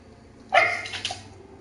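Dog barking indoors, a single sharp bark followed by a softer second yip, close and alone with faint background hum.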